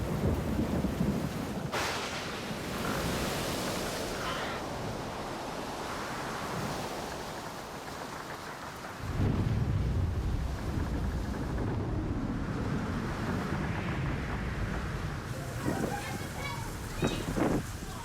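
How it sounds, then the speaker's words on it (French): Thunderstorm on the Belgian coast at Nieuwpoort, with heavy rain and wind roaring steadily and deep rolls of thunder swelling near the middle, broad and loud throughout. "dans la fraîcheur des orages qui menacent"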